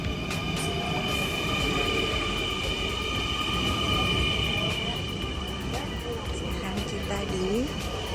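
Steady rumble and rattle of a train in motion from Amsterdam Central Station to Zaandam, heard from inside the carriage, with faint wheel squeals and muffled voices underneath.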